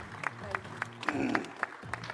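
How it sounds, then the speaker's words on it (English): Rhythmic clapping from a small crowd at a golf business summit, steady claps in an even beat with cheering and voices mixed underneath. "Round of applause."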